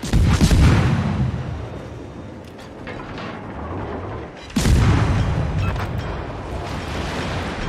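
Incoming shells burst around a destroyer in the naval battle game World of Warships: two heavy, roaring explosions a few seconds apart, each fading into a rumbling wash of noise, with no talking over them.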